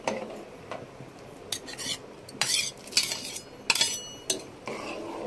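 A spoon stirs a sweet dish with cardamom powder, fried cashews and raisins in a pan, giving irregular close metallic scrapes and clinks in short bursts against a quiet background.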